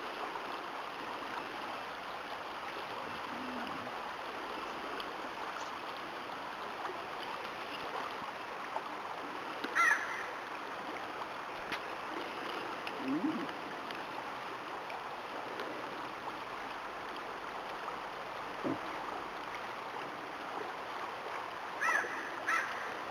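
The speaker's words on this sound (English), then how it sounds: "this is the Sol Duc River" Steady broadband rush of the Sol Duc River flowing near Forks on the Olympic Peninsula, a continuous moderate wash with a few faint knocks and no talk.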